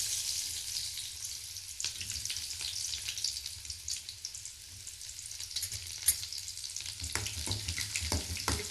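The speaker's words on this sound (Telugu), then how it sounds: "ఆయిల్ మరిగింది, ఉల్లిపాయలు వేసుకున్నాను." Onions fry in hot oil for okra curry, a steady close sizzle with occasional stirring taps and crackles throughout.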